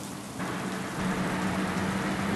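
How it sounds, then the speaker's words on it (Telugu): Steady heavy rain hisses continuously in the game Bus Simulator Bangladesh, growing slightly louder partway through, with a low rumbling bus engine hum underneath and no voices. "సడన్గా ఆన్ అయిపోతాయి వర్షాలు"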